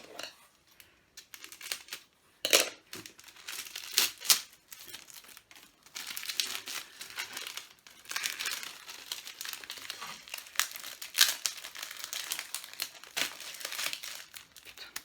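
Paper wrapping crinkles and crackles as a manga parcel is torn open, close-up, in irregular handling bursts with short pauses.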